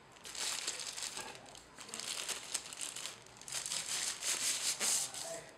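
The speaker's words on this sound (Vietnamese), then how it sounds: "Đây, bỏ túi ni lông ra" A plastic bag crinkles and rustles up close as it is pulled off a new Xiaomi power strip during unboxing, in irregular bursts of crumpling.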